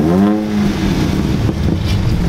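A Ford Focus that had sat unused for two years runs loud and close just after starting, a steady rough engine drone that settles into idle, with no talking.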